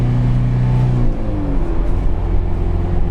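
A 2004 Mazda Fighter pickup with a 2500 cc engine revs up close. Its drone rises in pitch and then settles into a steady, throaty hum.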